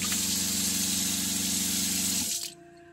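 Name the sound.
water running in camper trailer with the water pump on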